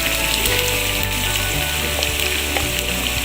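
Tomato puree for nargisi kofta curry sizzling as it hits a hot oiled pan, a loud, dense, continuous frying hiss with faint stirring scrapes and no talking.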